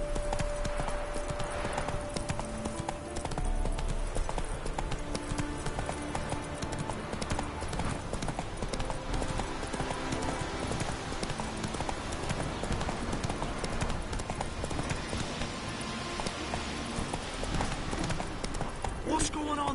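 A horse gallops in the video game The Witcher 3, its hooves drumming a steady rapid clip-clop throughout, with in-game music and sound effects beneath and someone talking over it.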